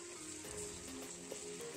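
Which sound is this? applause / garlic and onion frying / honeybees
garlic and onion frying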